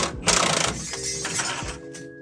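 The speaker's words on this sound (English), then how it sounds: "And now we're gonna get this long bolt out." Long bolt being worked loose with a 22 mm (7/8 in) wrench on a 1963 Volvo Amazon: a quick ratcheting, metallic mechanical rattle and clicks up close in a workshop, a few seconds long.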